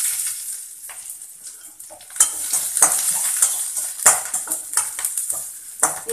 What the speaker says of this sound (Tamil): அது வெடித்ததும் கருவேப்பிலையும் வெங்காயமும் ஆட் பண்ணிக்கலாம்.